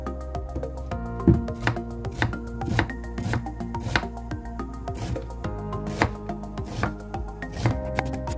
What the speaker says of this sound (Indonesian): siapkan talenan, kemudian mau saya iris-iris bawang bombaynya